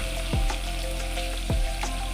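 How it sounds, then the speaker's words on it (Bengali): Paneer frying in oil in a pan, a close crackling sizzle with two sharp thuds of the pan being moved or stirred, and no talk. "পনিরটা ভাজছি।"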